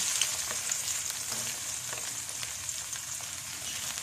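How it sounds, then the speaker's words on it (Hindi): Two medium onions frying in reused oil left from frying fish, a loud steady hiss and crackle close by, with faint stirring scrapes underneath. "ये इसमें मैं प्याज डाल दूँगी।"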